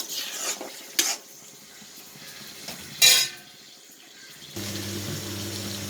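Onions and prawns are sautéed in coconut oil in a pan: a few metal utensil clanks and stirring scrapes come first, then a steady, quiet sizzle of frying takes over.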